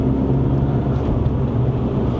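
A Stage 2 tuned Mercedes-AMG CLA45 (C117) rumbles steadily from inside the cabin in Sport mode during a downshift, a low, even engine drone with no clear rev blip and no talking.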